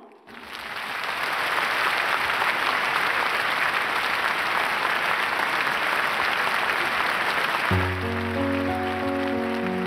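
A large concert crowd in Pyongyang applauds to welcome a singer, a broad, steady roar of clapping that swells in and holds, with sustained instrumental tones entering near the end.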